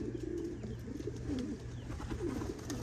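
Racing pigeons in a loft coo in soft, repeated throaty phrases over a low steady background hum, several birds overlapping close by, with no talking.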